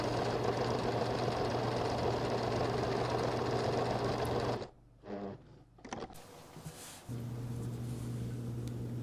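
A sewing machine runs a long stitch along knit fabric for a dress, whirring steadily and close, breaking off briefly in the middle before starting up again.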